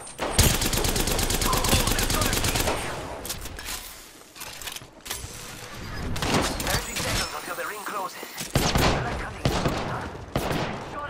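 Loud, dense automatic gunfire in the game Apex Legends, with near bursts and rattling fusillades that break off briefly and then resume, along with mechanical reload clatter and some talk.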